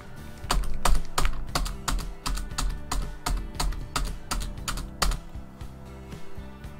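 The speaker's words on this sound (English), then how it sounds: "Hit the Enter key 14 times to lower the insertion point to the middle of the page." Repeated presses of the Enter key on a computer keyboard while working in MS Word, about a dozen sharp clicks in a steady, fairly quick rhythm, close and clear with no talking.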